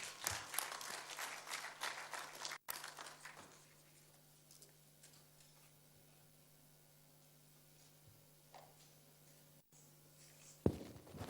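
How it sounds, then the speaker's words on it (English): Conference audience applauding a dignitary from the Nigerian Content Development and Monitoring Board at a Nigerian upstream oil cost optimization event; dense clapping for a few seconds fades into a quiet hall with low hum and a brief later burst. "A round of applause for him, please."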